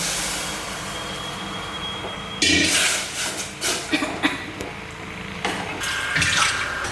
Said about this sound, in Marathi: त्यानंतर हे जे पाणी होतं ना आपलं ते टाकायचं डाळीचं पाणी